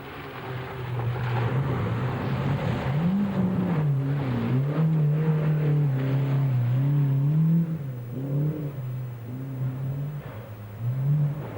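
A 1981 Skoda rally car engine revs at the Spa Rally in Belgium, a close, loud, continuous drone whose pitch rises and falls as the throttle is worked.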